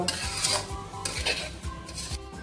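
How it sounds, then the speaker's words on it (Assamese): Grated coconut and sugar syrup are stirred in a pan for an Assamese coconut sweet, with rhythmic scraping strokes roughly every half second over a soft sizzle, close and without voices. "এনেদৰে চেনি ৰসটো শুকাই যোৱালৈ আপোনালোকে লৰাই থাকিব।"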